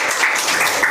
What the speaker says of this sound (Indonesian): Kita beri tepuk tangan dulu